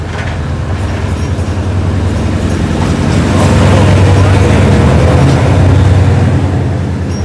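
Hitachi 4501 diesel locomotive hauling passenger train 255 from Thonburi to Lang Suan, a loud, steady engine roar and rumble of rolling stock, swelling slightly as it passes close by.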